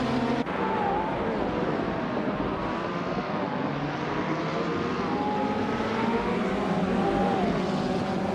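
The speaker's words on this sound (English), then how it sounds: "the race is underway at Autodromo Miguel Abed, and leading the pack is Wayne94 in the pole position" Racing cars, among them a 2013 Ford Mustang Boss 302 GT4, drone together at the start of a video-game race at Autodromo Miguel Abed, a loud sustained engine roar with shifting pitch and no voices.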